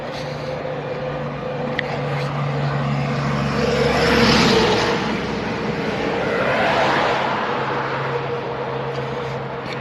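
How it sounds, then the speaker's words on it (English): Heavy trucks pass along a roadside with no sidewalk, a steady loud rumbling drone that swells twice as vehicles go by close, with constant traffic noise underneath. "these trucks driving by are real loud"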